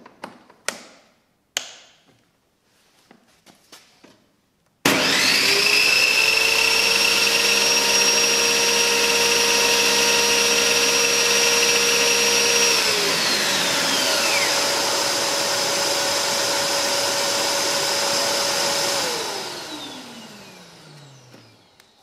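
A Parkside PNTS 1500 wet/dry vacuum runs linked to a table saw: a few taps, then both motors start with a loud steady whine, the saw spins down, and the vacuum keeps running seconds longer before winding down.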